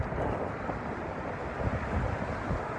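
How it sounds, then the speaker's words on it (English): Wind gusts buffet the microphone beside the Las Vegas sign, a dense roaring rush that stays steady and close for a few seconds, with no speech. "it's so windy"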